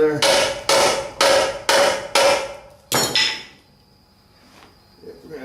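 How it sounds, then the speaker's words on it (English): Five steady blows from a rubber mallet in quick rhythm, a final heavier strike, then near silence with faint clinks. "rubber hammer under there."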